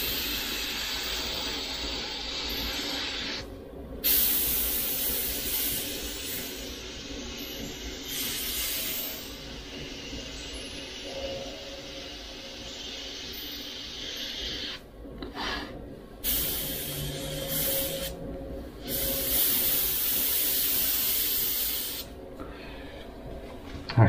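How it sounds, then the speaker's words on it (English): Freehand airbrush spraying paint on a sugar skull design, a steady airy hiss that starts and stops in bursts, with short pauses where the spray cuts out, close and fairly quiet with no talking. "I'm just doing all this like sort of freehand airbrush going in and just paint it as you go along."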